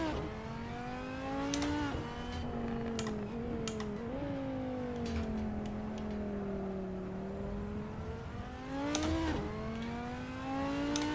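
Formula 1 car engine racing in Assetto Corsa, a high-pitched whine rising and falling through gear shifts and corner exits, loud and continuous with brief downshift blips.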